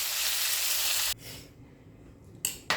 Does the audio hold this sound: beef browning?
yes